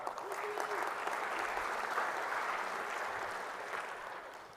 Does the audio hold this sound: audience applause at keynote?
yes